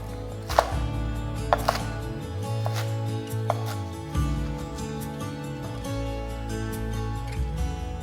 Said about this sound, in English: One to two sticks green onion, chopped to bite-sized pieces.